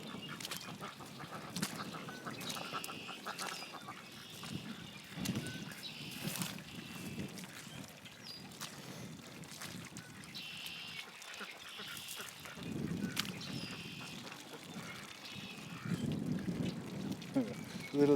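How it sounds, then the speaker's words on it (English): Little ducks quack and honk repeatedly over a noisy outdoor background, with a person talking at times among the calls. "Little ducks having fun."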